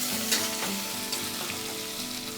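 Boiled potatoes sizzle and fry in a pan while being stirred for a fasting-day sabudana khichdi, a dense continuous hiss with soft scraping stirs, close and steady, with no talk.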